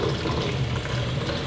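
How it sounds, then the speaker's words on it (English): Water poured from a cup while making a raw organic coconut cream pie, a steady soft liquid rush running continuously at moderate level, with no speech. "So what I'm gonna do now is add 1 more cup of water."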